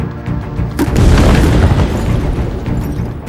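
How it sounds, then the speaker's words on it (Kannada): A film bomb blast, a gas-leak explosion set off by a cell phone, hits with a sudden deep boom and then a loud, sustained rumbling roar that fills the rest of the moment with no talking. "ಬಾಂಬ್ ಬ್ಲಾಸ್ಟ್ ಆಗುತ್ತೆ."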